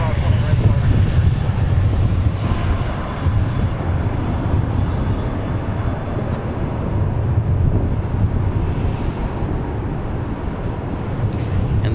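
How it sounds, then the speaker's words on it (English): A UPS cargo jet passes at DFW Airport, its engines producing a loud, steady broadband roar that holds throughout with slight swells, while faint talk sits underneath. "And there goes our UPS plane."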